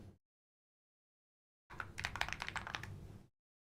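Computer keyboard typing, a quick burst of keystrokes lasting about a second and a half after a short blip, close and moderately loud with no voices.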